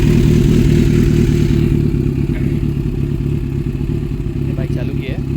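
A Kawasaki Z900 motorcycle with an aftermarket exhaust runs just after starting, a loud, close, deep burbling idle with a rapid, rough pulse that stays steady.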